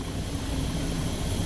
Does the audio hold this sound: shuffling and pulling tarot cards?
no